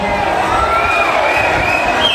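A college audience in a packed hall claps and cheers in a dense, loud, unbroken roar, with excited shouts layered over the applause.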